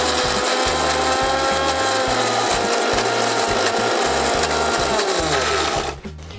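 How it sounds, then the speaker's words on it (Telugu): A kitchen mixer grinder runs loud and steady, grinding coriander and cumin seeds into a fine powder for onion chutney, with a gritty, rattling whir that cuts off near the end. "ముందు వీటిని మెత్తగా మిక్సీ వేసుకున్నాక"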